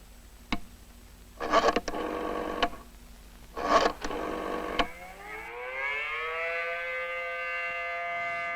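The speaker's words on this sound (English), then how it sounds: "sirens and bell and lights throughout the community are activated simultaneously" A few clicks and two short bursts of buzzing, then a community civil defense siren on a nuclear-war telephone alert network winds up, its rising wail climbing in pitch and holding steady.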